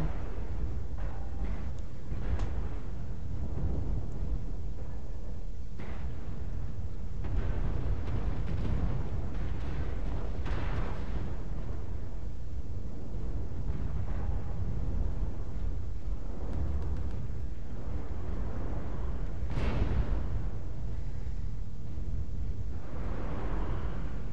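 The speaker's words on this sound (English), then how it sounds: "Warning, incoming missile." Incoming missiles explode in MechWarrior Online amid a continuous heavy rumble, with several muffled blasts and one sharper impact later in the battle.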